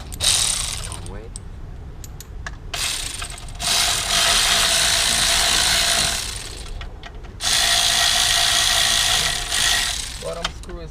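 Bursts of rapid ratchet clicking, close and loud, tighten caliper bolts on a first-generation Chevy Cruze dual-piston front brake upgrade, three long runs separated by short pauses with a few faint knocks and handling sounds between.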